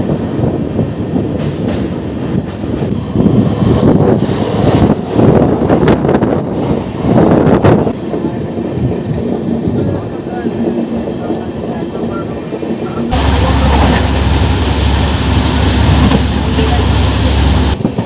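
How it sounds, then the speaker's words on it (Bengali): The inaugural Kolkata to Sairang Express, train 13125, crosses the Nasipur rail bridge in Murshidabad. A loud, continuous rumble of wheels and carriages mixes with wind buffeting, then shifts to a heavier, steadier drone near the end. "আমাদের ট্রেন ক্রস করবে মুর্শিদাবাদের সব থেকে জনপ্রিয় সেতু নসিপুর রেল ব্রিজ।"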